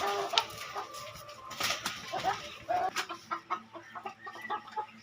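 Peru breed hens clucking in short, repeated bursts, fairly close, with a few higher squawks mixed in and faint background noise.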